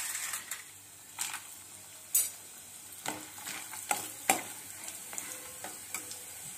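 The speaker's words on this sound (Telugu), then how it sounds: "ఆ వడియాల్ని కంపల్సరీగా వేపుకోవాలి" Vadiyalu, sun-dried lentil dumplings, fry in hot oil with a faint, steady sizzle. Sharper clicks and pops break through every second or so.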